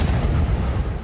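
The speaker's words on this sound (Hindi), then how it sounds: "पर्यटन मंत्रालय के पास कचरे के डिब्बे में हुआ ब्लास्ट।" A blast in a garbage bin near the tourism ministry in Damascus, heard in news footage as a loud, dense, booming rumble that fills the whole short moment without any speech.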